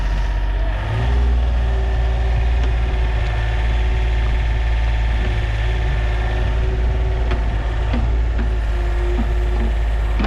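An excavator's diesel engine runs at a steady high rev, a deep sustained drone with faint clanks on top and no talking.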